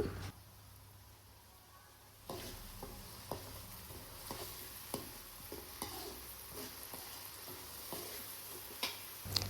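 Onion and cumin seeds fry in oil in a pan: quiet at first, then a steady sizzle begins with repeated clicks and scrapes of a spoon stirring, close and fairly soft throughout.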